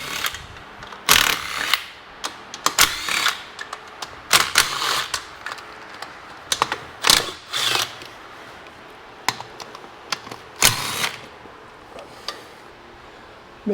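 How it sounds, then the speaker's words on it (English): Tools and fasteners clicking and clattering while the outer cover comes off a 2009 Arctic Cat DVX 300 ATV, with sharp ratchet-like bursts and rattles in an irregular pattern, close by. "So let's go ahead and take this outer cover off."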